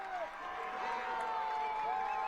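A large indoor crowd at a girls' state high school basketball game cheers and claps steadily, a continuous roar of applause with some high-pitched shouts running throughout.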